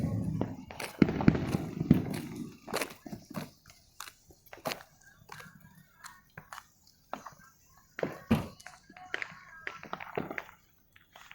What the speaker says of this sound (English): but at least I managed to capture some fireworks.